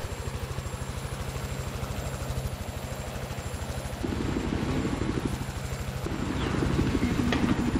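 Little Bird helicopter in Battlefield 4, a steady close rotor chop with a pulsing low drone throughout, swelling louder in the second half amid game noise.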